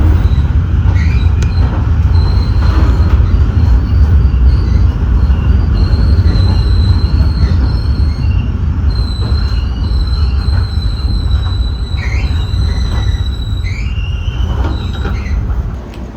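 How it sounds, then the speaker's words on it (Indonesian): An economy-class KA Dhoho passenger train runs loudly along the rails near Rejotangan station, a constant rumble of wheels with repeated high metallic squeals rising and falling throughout. "Jadi ini namanya kereta murah, kereta ekonomi kelas bawah"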